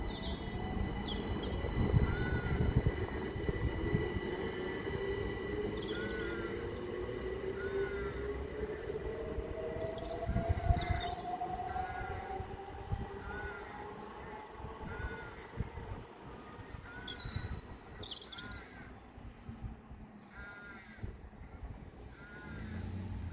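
A Great Western Railway service from Didcot Parkway to Paddington passes through Goring & Streatley on the Great Western Main Line, its long rumble swelling and holding for over twenty seconds with birds chirping in the background.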